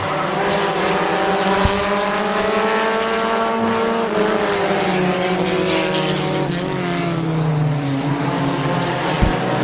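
Several race cars roar around Midvale Speedway, a dirt or short oval track, engines loud and close with rising and falling harmonic whine as they run three wide, continuous for the whole stretch with no voice over it.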